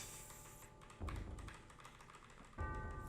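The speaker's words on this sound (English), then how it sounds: "I can use my keyboard" Rapid clicking keystrokes on a computer keyboard during a Final Fantasy VII game session, soft and close, with two louder bursts of key presses standing out over steady game background sound.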